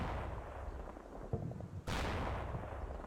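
A mortar round lands in a turn-based war video game: one sharp, sudden blast cuts through a quiet low rumble, then a sustained broadband roar lingers after the impact.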